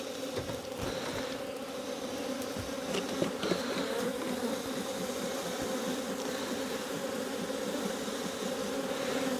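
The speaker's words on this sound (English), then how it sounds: "Plenty of bees in here." Honey bees buzz steadily inside an open hive box during a hive check, a dense, continuous drone close by with no talking.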